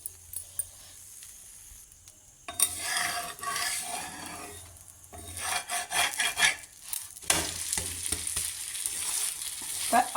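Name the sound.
Madurai kari dosa frying on a griddle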